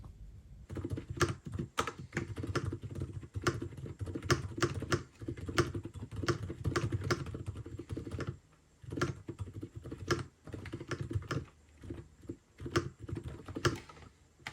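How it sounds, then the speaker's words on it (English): Fast typing on a computer keyboard, crisp clacking keystrokes in quick bursts with brief pauses, close and clear with no voices. "let's do a little typing test"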